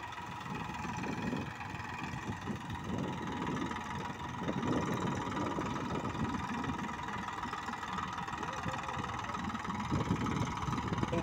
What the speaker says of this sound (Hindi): 42 HP ट्रैक्टर, बहुत आराम से लेकर चल रहा है।